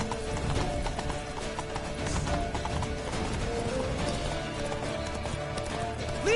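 Hooves clip-clop in a fast galloping rhythm alongside horse whinnies and a busy, continuous soundtrack in the video game The Witcher 3.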